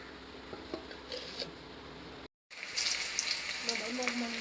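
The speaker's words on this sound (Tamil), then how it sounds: "எண்ணெயில் ஒன்று ஒன்றா போட்டு போட்டிருக்கேன் நல்லா போ பொன்னிறம் ஆகட்டும் பொரித்து எடுத்துக்கலாம்" Chicken pieces for a Madhampatty Rangaraj-style recipe sizzle and fry in hot oil, a steady crackling hiss throughout with a brief cut midway, then a louder, brighter sizzle as frying continues.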